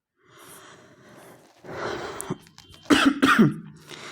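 A person coughs and clears their throat several times nearby, with harsh raspy bursts growing louder toward the end.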